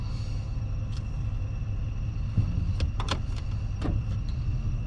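A pickup truck backs up slowly with a boat trailer hitched behind, its engine idling as a low steady rumble while several short clicks and knocks sound from the cab.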